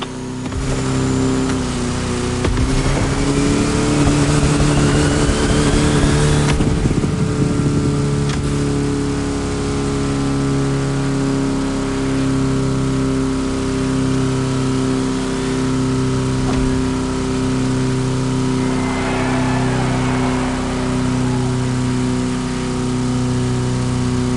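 A Volkswagen Type 2 bus engine in The Crew Motorfest video game revs hard and steadily close up, a loud sustained mid-pitched drone with rising harmonics and a brief surge early on, with no talking.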